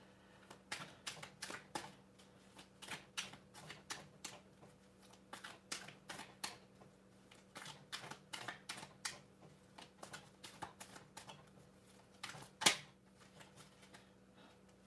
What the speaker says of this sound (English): So I'm here shuffling away.